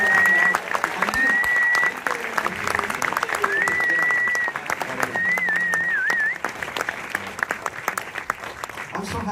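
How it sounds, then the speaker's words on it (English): Audience at a film Q&A for Nirvanna The Band The Show The Movie giving a round of applause for a guest, loud sustained clapping with some cheering, and a voice speaking over it. "So please, a round of applause for Ethan."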